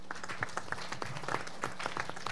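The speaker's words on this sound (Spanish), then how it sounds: "Un aplauso al Fondo Indígena ahí" A small audience at an Indigenous forum gives a round of applause, scattered individual claps with a loose, uneven rhythm heard at a moderate distance in a reverberant room.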